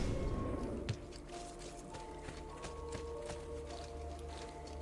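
Horse galloping in the video game Assassin's Creed 2, rapid steady hoofbeats at moderate level over game ambience, with no voices.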